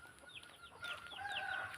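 Free-ranging native chickens outdoors near a harvested rice field, a few short clucks and calls at moderate distance over steady ambient background, with no talk.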